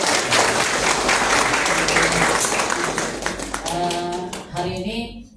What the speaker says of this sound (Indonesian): Tepuk tangan buat kalian sendiri.